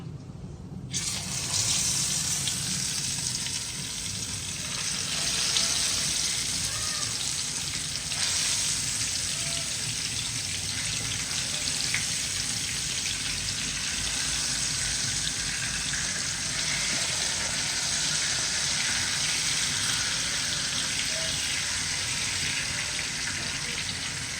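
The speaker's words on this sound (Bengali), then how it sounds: "এবারে মাছটা এভাবে ভাজা হতে থাকবে হালকা একটু এপাশ ওপাশ ভাজার পরে" Hilsa fish frying in oil in a pan for a mustard hilsa dish, a broad steady hiss that begins abruptly and holds evenly throughout, with no speech.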